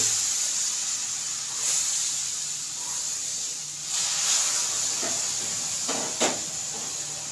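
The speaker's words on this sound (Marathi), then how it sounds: "आता आपल्याला हे दूध आणि पाणी ह्याच्यामध्ये हळूहळू ओतायचं आहे" A steady, airy hiss of steam runs throughout as hot milk and water are slowly poured onto roasted semolina, swelling slightly at moments, with a few faint clinks close by.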